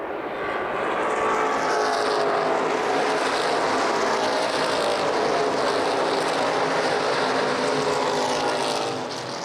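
Street stock race cars roar around the oval at Lucas Oil Raceway in Indianapolis during a CRA race, a loud, sustained engine drone that swells and fades slightly as the pack passes, with no talk.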